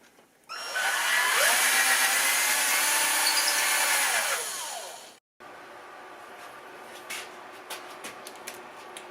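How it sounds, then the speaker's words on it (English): A bushing cutter bores tuner-bushing holes in the wood headstock of a Les Paul Junior guitar, giving a steady, loud high-pitched cutting whine for about four seconds that winds down, then a short gap and quiet workshop sounds. "I'm then going to use this bushing cutter, and that fits in a 1/4 inch hole"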